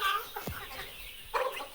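Laying hens perched on bamboo roosts at a poultry farm give a few short, close clucks over a quiet background.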